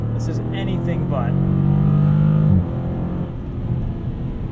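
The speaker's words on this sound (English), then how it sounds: "The 8-speed transmission shifts like crazy." A 2019 widebody Dodge Challenger R/T Scat Pack accelerating hard through its 8-speed transmission at night, heard from inside the car: a loud rising engine drone that drops sharply at a gearshift, then a lower rumble.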